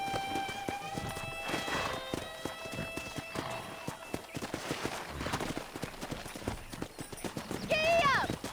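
Horse hooves clip-clopping in the Western video game Red Dead Redemption, a quick irregular patter of steps under game music and distant voices, ending with a brief whinny-like rise.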